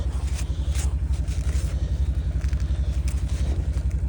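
A cold Honda three-track vehicle's engine runs in the cold with a loud, close, rapid regular putter and a steady rhythmic low thrum, no talk over it.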